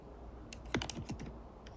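Several quick keystrokes on a computer keyboard while entering a binomial distribution function into Desmos, a short cluster of soft clicks close by over a quiet room hum.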